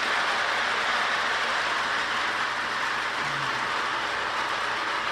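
A Marx 666 toy steam locomotive with its tender runs on a model track, giving a steady, even rolling rumble and hiss throughout with no voices.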